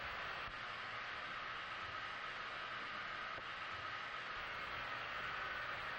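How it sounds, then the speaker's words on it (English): Airplane engines roar steadily inside the cabin during a parabolic weightlessness flight, a loud, unbroken broadband drone that holds constant for the whole stretch. "The sound that you hear is obviously the engines of the plane."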